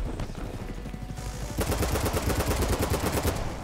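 Automatic gunfire in the video game BattleBit Remastered, a sparse rattle at first, then a loud, fast, steady stream of close shots that continues to the end.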